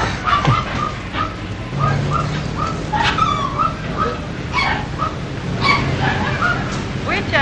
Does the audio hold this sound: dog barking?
yes